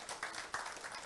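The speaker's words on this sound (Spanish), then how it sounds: "Den un aplauso al Señor" A church congregation claps and applauds, a dense wash of handclaps with a few louder surges, moderately distant and continuous.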